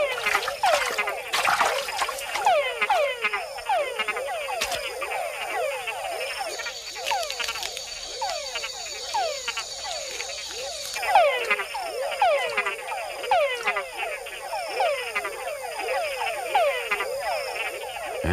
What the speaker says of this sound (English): male frogs have to think twice about sounding off, because females aren't the only ones out there listening to the chucks